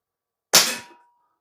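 An ASG Action Army T-11 spring-powered bolt-action airsoft gun fires a single close, sharp snap with a brief metallic ring that fades within half a second, surrounded by silence.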